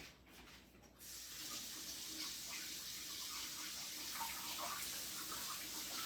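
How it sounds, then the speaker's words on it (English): Tap water runs steadily over an egg being rinsed, a continuous close splashing flow that starts after a moment of quieter room sound and carries on alone with no talk. "Just rinse the egg, wash the egg"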